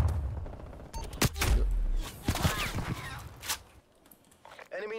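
Gunfire in Call of Duty Cold War, with rapid close shots and bursts, thumps and impacts packed into a few seconds, mixed with game voice callouts and a brief lull near the end.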